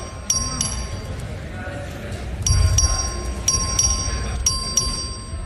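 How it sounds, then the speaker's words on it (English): A voting bell rings in a legislative chamber during a record vote, several sharp metallic rings in spaced bursts over murmuring room noise and background voices. "Clerk, ring the bell."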